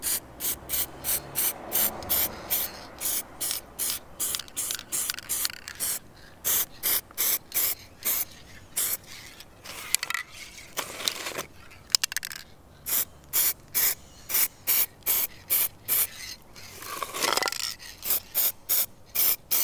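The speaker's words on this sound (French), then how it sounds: "C'est de la bombe de peinture noire, mat." Black matte aerosol spray paint hisses from a can outdoors in a carpentry workshop setting, in many short, fairly loud bursts with brief gaps, a steady rhythmic series of sprays with a few longer passes.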